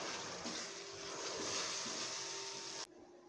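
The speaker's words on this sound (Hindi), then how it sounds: "अब मैं इसके अंदर थोड़ा सा पानी ऐड कर दूं" Water poured into a pan of cooking tomato masala for palak paneer gives a steady, close hiss that runs for nearly three seconds, then cuts off abruptly.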